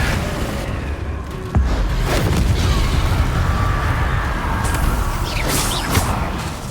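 Confringo fire-spell explosions in Hogwarts Legacy go off in loud, booming bursts over a dense roar of spell effects and game noise, with a sharp hit near the middle.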